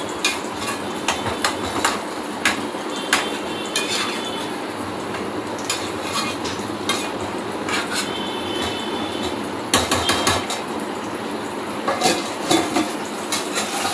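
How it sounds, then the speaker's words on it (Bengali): Malabar spinach (pui shak) is stirred in a pan, producing repeated metallic scrapes and taps of a utensil over a steady sizzling hiss, close and continuous. "মাঝখানে পুঁই শাকটাও একটু নেড়ে নিচ্ছি যাতে তলায় ধরে না যায়।"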